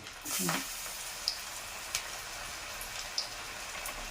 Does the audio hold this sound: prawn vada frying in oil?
yes